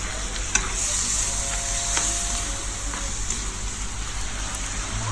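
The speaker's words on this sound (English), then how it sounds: "Add some vegetable oil into the fried prawns and stir fry the prawns." Prawns are stir-fried in vegetable oil in a pan, giving a loud, continuous close-up sizzle and crackle with light stirring scrapes throughout, and nobody speaks.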